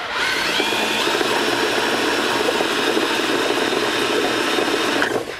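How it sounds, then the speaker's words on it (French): A continuous mechanical whir with a faint rubbing, scraping squeal from a car engine belt running against plastic, steady and fairly loud, with no voices. "C'est le bruit de la courroie qui frotte contre le, contre le plastoc"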